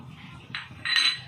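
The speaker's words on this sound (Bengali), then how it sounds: "আমি এবার শুকনো মরিচগুলো কড়াইতে দিয়ে দিলাম" Dried chillies dropped into a metal wok give a couple of brief, close metallic clinks and scrapes, with no talking.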